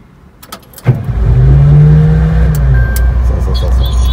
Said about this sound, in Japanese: じゃあとりあえずエンジンかけます。